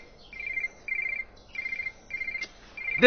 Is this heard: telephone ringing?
yes